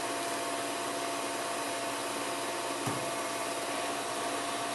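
A wood lathe spins steadily while a high-build friction polish of walnut oil, carnauba wax and shellac is applied, making a constant close whirring hiss with one faint rubbing tick and no speech.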